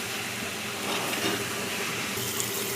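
Broad bean and tomato curry stirred in a pan, a soft steady sizzle and hiss with faint scraping, quiet and continuous with no talk.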